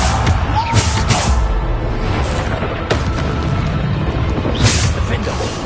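Depulso spell cast in the video game Hogwarts Legacy, a few sharp booming blasts over dense game combat noise, with someone shouting spell names throughout.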